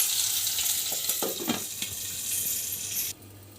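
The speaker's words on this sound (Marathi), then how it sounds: "गॅस मी मोठाच ठेवला आहे आणि असं हलवून घ्यायचे" Green chillies stuffed with peanut powder frying in oil over a high flame, a loud steady sizzle with a few scraping stirs in the middle before the hiss drops away abruptly near the end.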